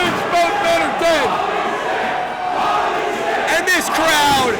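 Wrestling arena crowd roaring and shouting after a Death Valley driver through a table on the floor, a loud sustained wall of voices with rising whoops, while excited commentary runs over it.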